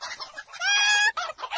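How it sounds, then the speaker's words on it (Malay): A hen clucks and cackles loudly and close by after laying an egg, with a run of short clucks followed by one drawn-out squawk and a few more clucks. "Ayam tadi ada bertelur lagi."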